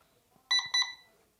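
Two short, bright electronic beeps in quick succession from an ABUS Detecto SmartX 8078 2.0 smart bike lock arming its alarm, close and clear, against a quiet background.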